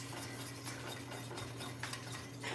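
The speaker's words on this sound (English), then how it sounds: "Now, coming back with my whisk." Whisk stirring beef bone broth in a hot pot on the stove, a steady busy scraping and sloshing with faint metallic clinks, close and continuous.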